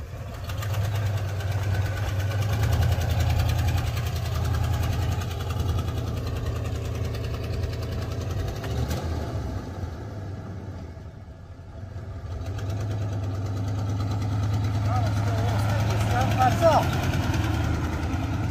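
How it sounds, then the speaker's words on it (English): A bush truck's engine idles with an exhaust leak, a steady low rumble with some knocking throughout, easing briefly near the middle before returning, loud and close. "Definitely has an exhaust leak."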